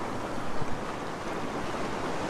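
Strong wind buffets the microphone on the ocean shore at Currumbin, Queensland, Australia, a loud continuous roar with gusty thumps over the wash of breaking surf.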